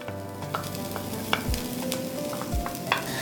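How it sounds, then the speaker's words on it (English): Onions fry on a very slow flame in a pan, giving a steady soft sizzle with occasional scrape and stir strikes, close and fairly quiet, with no talking. "Our onions are turning brown."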